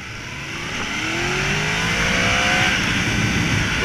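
A 2017 Yamaha MT-10 SP motorcycle pulls away in first gear, its engine note climbing steadily in a rising drone that swells and holds loud, with rushing wind noise beneath and no talk.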